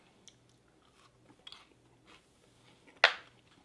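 A crunchy apricot cereal bar made with Rice Krispies is bitten, giving one sharp, close crunch after a few faint softer chewing and handling sounds.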